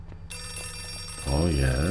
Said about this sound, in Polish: Telefon dalej dzwoni, a my wchodzimy znowu.